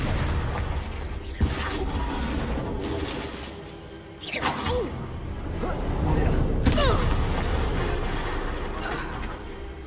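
Confringo fire spells explode in a Harry Potter video game amid other spellcasting, producing a dense, continuous wash of magical booms, whooshes and crackling impacts, with a few sharper hits standing out.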